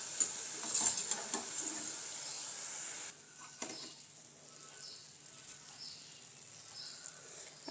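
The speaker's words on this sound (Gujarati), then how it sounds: "આપણે આવી જ રીતના બધી જ બુંદી તળી લેવાની છે." Boondi frying in hot oil gives a soft, steady sizzle with light metallic taps, then drops to a quieter, thinner crackle after a few seconds, with faint scrapes continuing underneath.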